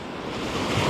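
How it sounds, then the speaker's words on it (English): Ocean surf breaking close by where anglers wade for speckled trout, a dense continuous wash of rushing water with wind noise buffeting the microphone. "I like to be up on top or up in front of where the waves are breaking so they're not breaking on you."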